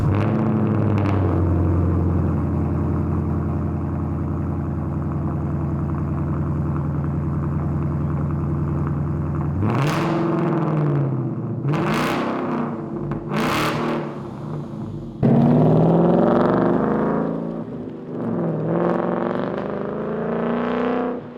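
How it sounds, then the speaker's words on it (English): A 2015-2017 Mustang GT V8 with an AWE Track Edition stainless steel 3-inch cat-back exhaust idles with a deep steady rumble, then blips through several sharp rising revs and a longer throaty rev, loud and close, with no talking. "Our AWE Track Edition fit great, now let's hear how it sounds."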